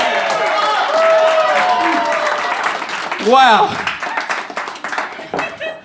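Audience at a live comedy show in Melbourne claps continuously, with rapid hand claps under voices, laughter and a loud exclamation from someone in the crowd, the applause thinning toward the end.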